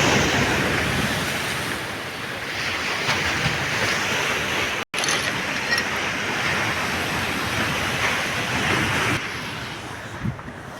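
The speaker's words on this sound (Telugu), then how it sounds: "అంత భయంకరంగా ఉంది ఈ యొక్క అలలు ఉధృతి వస్తుంటే." Rough sea waves crashing onto the shore, a loud, continuous roar of surf with wind buffeting the microphone and one brief dropout partway through.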